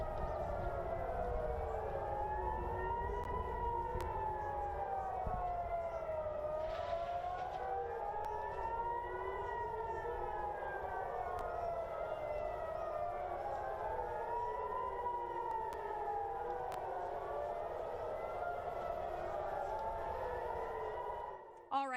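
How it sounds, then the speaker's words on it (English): Air raid sirens wailing on a livestream, several overlapping tones rising and falling in slow cycles, distant and steady throughout. "so we do hear the sirens"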